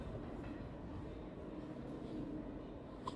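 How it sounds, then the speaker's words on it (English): A New York City subway train rolls into a station, its steady low rumble and rail noise filling the space evenly for a few seconds with no talk over it. "I'm tired of these damn trains pulling up out of service."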